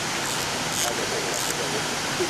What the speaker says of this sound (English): This is the Waikani waterfall. There are 3 waterfalls here.